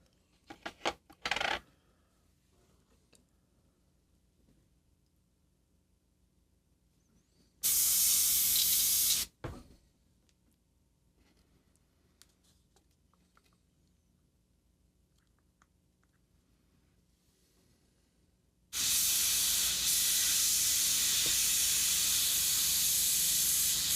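An airbrush being rinsed out sprays in two loud hissing bursts, a short one of about two seconds and a longer sustained one of about five seconds, with faint clicks and handling noise between them and no talking.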